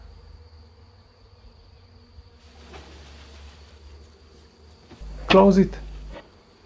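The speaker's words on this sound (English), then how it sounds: "I gently shook the bees into the box." A small honey bee swarm buzzes softly inside a small beehive box, a low continuous drone, briefly interrupted by a short spoken phrase and a louder knock near the end.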